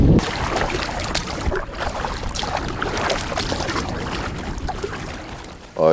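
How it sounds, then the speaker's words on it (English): Canoe being paddled and pulled along the Partridge River toward James Bay on choppy water, with continuous sloshing and splashing of waves against the hull, steady and fairly loud throughout. "we're just getting tired of dragging the canoes, so we're gonna try to see if we can paddle"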